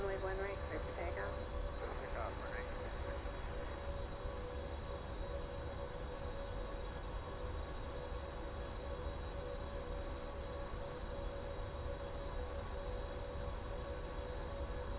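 Steady, loud jet engine roar of a PMDG 777-300ER on its takeoff roll in Microsoft Flight Simulator, a continuous broadband rumble with a faint tonal whine, with brief talk near the start.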